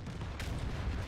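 A tank's ammo rack explodes in the video game World of Tanks as a muffled, distant boom with a brief sharp crack, sitting under a steady rumbling battle background.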